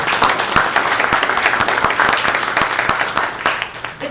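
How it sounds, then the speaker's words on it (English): An audience at a community education event gives a sustained, dense round of applause for its speakers, steady and fairly loud throughout with crisp individual claps standing out. "I want everyone to give a round of applause to our learned speakers"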